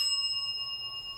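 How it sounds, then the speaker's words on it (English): A bell rings once and sustains with clear steady ringing tones that fade slowly, heard alone in a quiet indoor setting during a group session. "The bell rung when I asked that"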